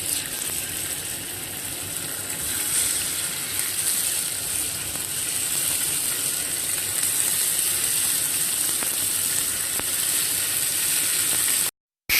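Gnocchi sautéing in hot olive oil in a pan, a continuous close hiss and crackle of frying that holds steady for several seconds before cutting off abruptly near the end.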